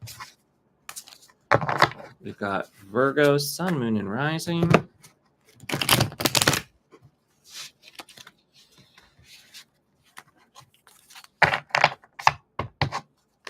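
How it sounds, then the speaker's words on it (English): Several quick bursts of tarot cards riffling and being shuffled, coming in short clusters between stretches of a voice talking nearby. "Just going to shuffle."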